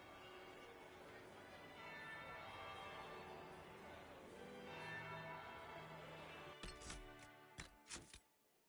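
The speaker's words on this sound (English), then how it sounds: "That would be the second bell." Bell ringing in Dragon Age Inquisition, resonant tolling that hums beneath a low wash of ambience before a handful of sharp, louder strikes sound near the end.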